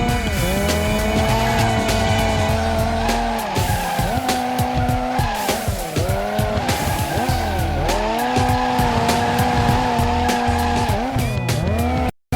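A car drifts in Professional Drift: D1 Grand Prix Series on PS2, with a revving engine and long, wavering tire squeals that rise and fall under sustained loud skidding, continuous until an abrupt cut.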